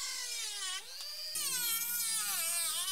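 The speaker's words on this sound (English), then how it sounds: "We used the diamond cutoff wheel with the Dremel to trim off the excess." A Dremel fitted with a diamond cutoff wheel trims excess from water rocket booster fins, a close, continuous high-pitched whine that dips briefly in pitch before the cut resumes louder.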